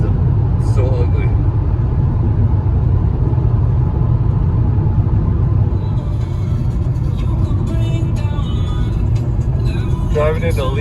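Inside a car driving toward Lee Vining near Mono Lake in the Sierra during the 2020 fire season, a loud, constant low engine and road rumble fills the cabin, with faint clicks and rattles above it.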